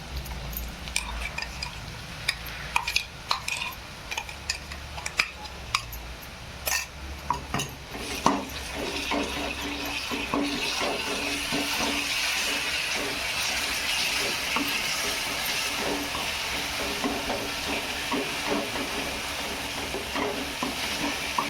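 Ground green chili and garlic paste is sautéed in a pan for a dill greens dish. A spoon clinks and scrapes against the pan at first, then a continuous sizzle builds and holds.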